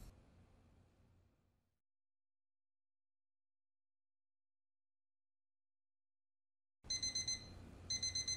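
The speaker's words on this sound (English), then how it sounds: "I hate alarm noises. I know that's the point, but it just ain't fun." An alarm rings in an SCP monster-monitoring video game, loud repeated electronic beeping bursts that start abruptly after a long silence and continue in pulses to the end.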